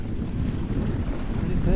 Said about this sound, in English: Is this a gust?